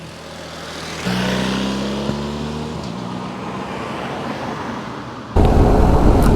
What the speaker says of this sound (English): I'll check when I got off the bike, but they're noisy. The tyres are noisy